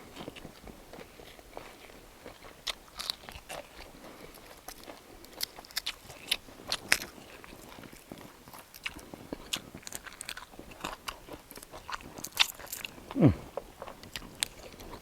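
Close, wet chewing and crunching of a raw spicy Thai minnow salad made with live fish, koi pla siw, in irregular bites with small lip smacks and scrapes, no voices, fairly quiet.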